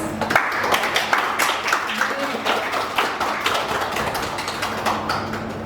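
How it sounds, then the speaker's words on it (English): An audience at a yoga and breathing session for COVID management applauds themselves, with dense sustained clapping and a voice speaking over it. "let's clap for ourselves"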